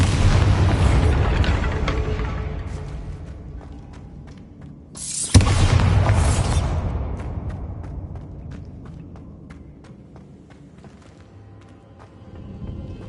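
A single heavy blast from the Bombarda blasting spell in Hogwarts Legacy, loud and booming over a rumbling game backdrop, then a long fading rumble with scattered ticks and clatter.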